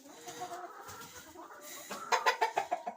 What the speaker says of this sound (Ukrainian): Ось ця курочка несеться